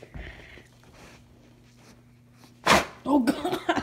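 A sharp, close sneeze bursts out near the end, followed by a second quick sneezy snort, after a quiet stretch with a faint steady hum.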